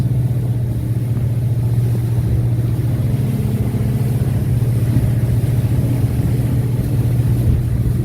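A 2014 Grady White 228 runs on the water with its outboard motor trimmed down, giving a steady, loud, close drone and hum that holds without a break.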